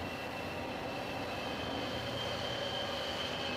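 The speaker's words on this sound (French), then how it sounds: "C'est le bruit de la vapeur qui circule dans les tuyaux." A steady, even hiss and hum of steam flowing through pipes to the turbines of a naval nuclear reactor prototype, constant and unchanging, with a faint tonal whine over a low rumble.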